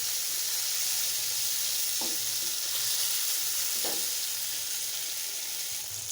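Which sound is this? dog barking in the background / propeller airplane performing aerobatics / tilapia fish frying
tilapia fish frying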